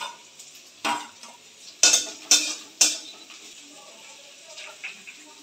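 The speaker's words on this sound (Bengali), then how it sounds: "পেঁয়াজগুলো দিয়ে দিচ্ছি, একটু ভাজা করে নেব।" Onions, garlic and chilli go into a pan and fry with a soft background sizzle, broken by several sharp clinks and scrapes of a utensil against the pan.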